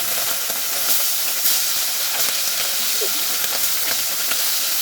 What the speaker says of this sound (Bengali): মাছ ভাজার শব্দটা খুব অসাধারণ লাগে